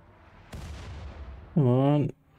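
In the RimWorld video game a mortar fires: a sharp thump followed by a half-second of rumbling tail. A brief voice-like tone comes right after, then quiet.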